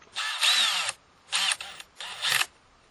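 A Bosch DDS182-02 brushless compact cordless drill whirs in three close bursts, one long run followed by two shorter ones, its pitch rising as it spins up, with brief quiet gaps between.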